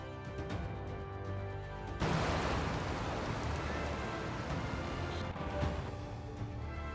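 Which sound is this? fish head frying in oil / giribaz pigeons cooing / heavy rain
heavy rain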